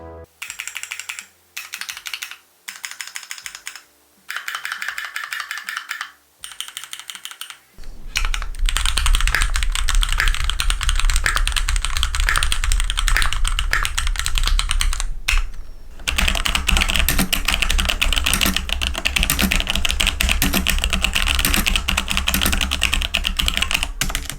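Bursts of typing on a Keychron Q1 custom mechanical keyboard, crisp clacky keystrokes in quick runs, first with short pauses between runs, then a dense continuous stretch with steady background hum.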